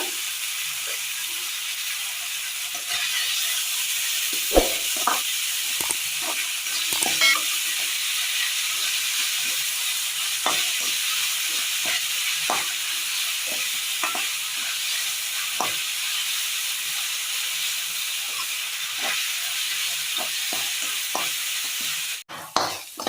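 Curry base with salt frying in a pan for a Kerala pearl-spot fish curry, a constant hissing sizzle carrying on steadily throughout, with scattered soft stirring scrapes and no speech.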